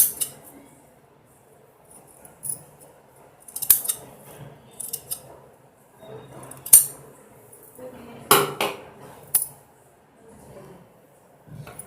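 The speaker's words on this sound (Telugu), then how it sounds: "సెంటర్లో కట్ చేసేస్తున్నామండి." Scissors cut down the centre of a blouse fabric piece in a string of separate crisp snips and clicks with quiet gaps between them. The cutting is close, over a faint background hum.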